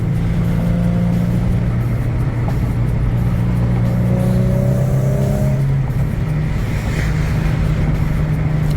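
A G37 sedan fitted with quad carbon fiber exhaust tips rumbles steadily with a deep, continuous exhaust drone and mild rev swells, heard from close by without talk.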